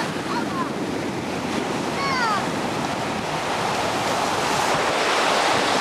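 Steady broadband surf from sea waves rolling in on an overcast day, a continuous wash with wind noise across the microphone and a few faint bird-like chirps above it.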